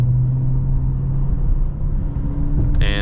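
Inside a moving 2014 Honda Accord Coupe V6 with its J35 engine, a steady low hum and road rumble hold throughout, and a brief bright tone sounds near the end.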